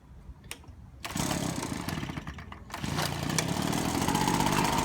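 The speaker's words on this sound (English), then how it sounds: "is with the leaf blower." Gas leaf blower roaring at a backyard barbecue grill, the motor kicking up loud after a second, dipping briefly, then running steady and strong near by.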